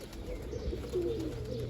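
Pigeons at a rooftop loft give a soft, low cooing that murmurs continuously under a steady background hum, fairly faint and close.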